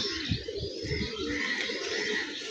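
Young pigeons recently let out to fly give soft, repeated cooing calls with faint chirps, close by and fairly steady over a continuous outdoor background.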